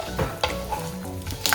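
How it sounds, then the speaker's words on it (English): Peanuts being dry-roasted and stirred in a pan for Maharashtrian kanda poha, giving a continuous close scraping and rustling with soft clatter bursts, no talking. "We need to roast the peanuts until the color changes to a slight golden brown"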